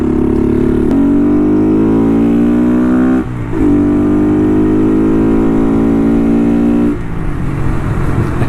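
A Honda Monkey motorcycle fitted with an aftermarket exhaust and intake revs loudly close by, its engine note rising in two long throttle sweeps with a brief dip between them and no talk.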